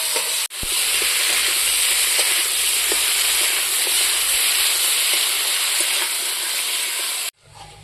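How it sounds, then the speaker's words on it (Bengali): Potatoes tossed with turmeric frying in oil, a steady loud sizzle running throughout with faint stirring scrapes, cut off abruptly near the end. "হলুদের সাথে ভালো করে আলুটাকে মিক্স করে তেলের সঙ্গে ভালো করে ভেজে নেব।"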